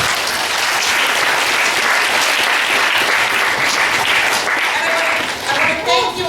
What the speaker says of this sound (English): I was going to ask you for a round of applause.